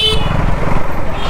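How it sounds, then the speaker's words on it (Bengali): A motorcycle horn honks in traffic, a loud blaring tone heard up close from the rider's position over engine and road noise, with a voice speaking briefly at the start. "চলো হর্ন মারছি, সরে যাও"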